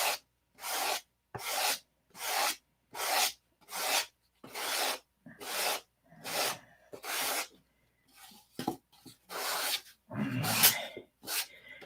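Sandpaper rubbing across wood while shaping a hand plane, working cross grain. Regular, close strokes repeat about every three quarters of a second with silent gaps, then turn quicker and more uneven near the end.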